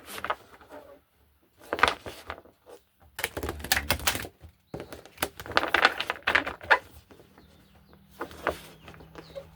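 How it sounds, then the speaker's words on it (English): Tarot cards shuffled by hand in bursts of papery riffling and slapping, with short gaps between rounds, close and moderately loud without talk. "So let's shuffle them up."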